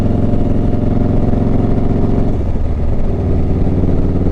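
A motorcycle engine drones loud and steady throughout while riding in North Texas, its exhaust note shifting slightly partway through, with no voices.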